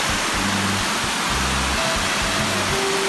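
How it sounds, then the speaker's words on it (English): Heavy rain falls on a street in Turkey as a steady, broadband hiss, continuous and fairly close; a few faint low thuds show up beneath the downpour. "it's raining pretty heavily."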